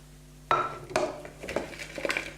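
Caesar salad ingredients with crispy bacon tossed in a bowl, giving several close scraping, clinking strokes of utensils against the dish in an uneven rhythm.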